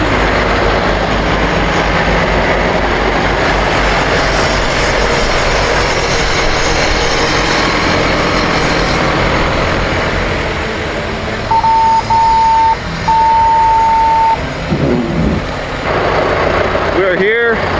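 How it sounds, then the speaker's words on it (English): A warmed-up tractor engine idles outdoors in falling snow with a loud, steady, rumbling drone. Near the end it softens, and a brief steady tone briefly sounds. "Tractor's warmed up."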